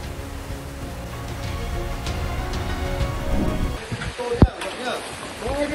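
Heavy rain pours steadily during Typhoon Yagi in northern Vietnam, with a sharp, loud thunder crack near the end amid continuous storm noise.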